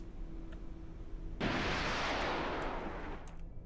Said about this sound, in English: take our TASM missile, fire it right about